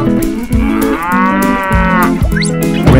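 A cow moos loudly and close, a long, drawn-out low call that rises and wavers over about three seconds over music, with no talking.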